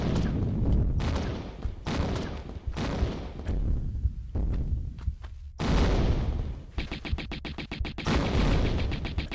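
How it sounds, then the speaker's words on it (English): Gunfire in the 1996 Tomb Raider game at the Great Pyramid, with repeated loud shots arriving in bursts and clusters, separated by short gaps and ending in a quick run of sharp rapid cracks. "Bullets."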